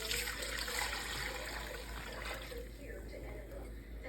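Chicken broth pours into a container that someone holds steady, making a continuous close trickle and splash that fades a little toward the end, with voices faintly in the background.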